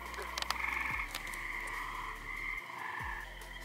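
Frogs croak steadily at a carnivorous plant nursery, a continuous rasping chorus with sharper calls layered on top, fairly close and loud throughout.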